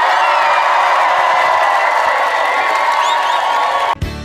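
A crowd at a comedy show in Omaha, Nebraska cheers and whoops steadily as a broad, loud wash of noise, then cuts off abruptly near the end.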